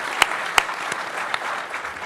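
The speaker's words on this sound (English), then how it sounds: "Give those ladies a big round of applause." An audience at a civic event applauds the Gallery Place Chinatown co-chairs, a lively burst of clapping with a few sharp close claps standing out above the crowd.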